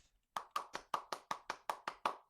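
Nine crisp, evenly spaced hand claps ring out close and fairly quiet, forming a quick steady rhythm during an online game session, with no talking over them.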